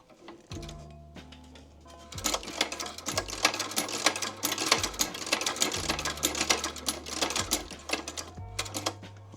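A newly bought sewing machine runs close by, stitching tight stitches in a fast, steady mechanical rattle. A few starting clicks come first, then the whirring burst continues for several seconds.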